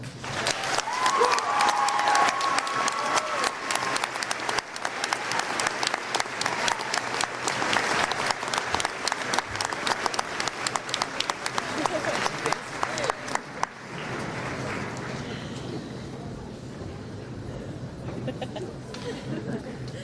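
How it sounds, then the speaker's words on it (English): An audience at a high school closing ceremony applauds, dense, loud clapping for about fourteen seconds before it thins out, leaving a quieter room with some voices. "deserves a round of applause"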